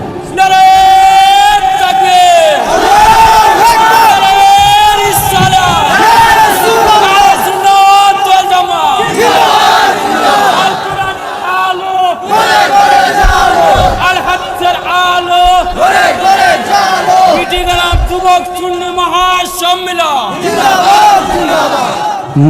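A large crowd at an Islamic sermon chanting slogans in unison, loud and sustained with rhythmic rising and falling shouts, a lead voice calling and the mass responding throughout.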